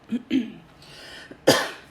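A few short, sharp coughs from a nearby person, followed by a louder, harsher cough burst near the end.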